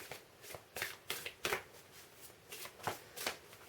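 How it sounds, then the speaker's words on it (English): A deck of large tarot cards is shuffled by hand, giving about ten crisp riffling bursts in a steady rhythm, quiet and close, with no talking. "So I'm just going to shuffle and get some of these big cards out"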